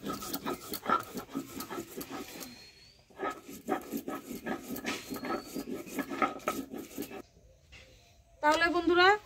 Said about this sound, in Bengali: এখন আমি মশলা বেটে নিচ্ছি।